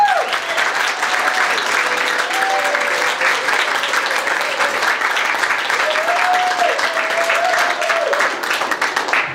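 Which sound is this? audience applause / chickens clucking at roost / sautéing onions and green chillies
audience applause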